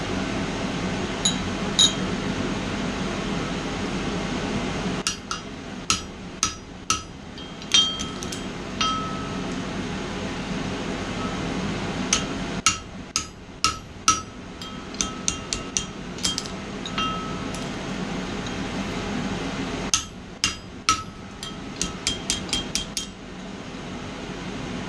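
Hammer blows on a punch drifting 7mm holes in metal for a tong rack, sharp ringing strikes in quick clusters of several hits separated by pauses, over a steady fan-like hum.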